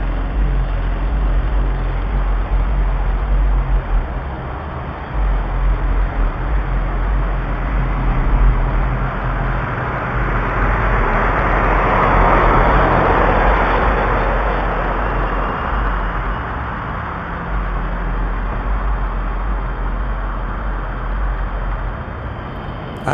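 Car with loud booming, roaring exhaust pipes about 250 feet away, heard from inside a house as a continuous low rumble that builds and fades across the stretch, with no talking.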